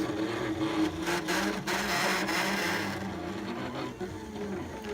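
A Silhouette Cameo 3 cutting machine kiss cutting stickers makes a continuous rough grinding whir with shifting motor tones and brief clicks, steady and close, with no talking.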